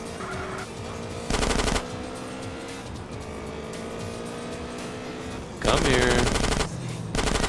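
SMG fire in GTA San Andreas Definitive Edition, played on PS5, rattles in two or three short loud bursts over a car engine drone, with a brief spoken line.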